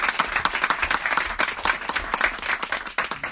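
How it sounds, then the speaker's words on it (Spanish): Audience applause at a book presentation, dense sustained clapping from a crowd filling the whole stretch at a steady level. "yo creo que hay que aplaudir a Lola"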